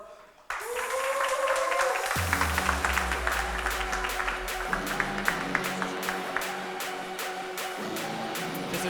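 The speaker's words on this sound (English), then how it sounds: "let's give him a really big round of applause" Audience applause at a talk on designing authenticity, a steady dense roll of clapping that starts abruptly and carries on for several seconds, with some sustained tones running underneath.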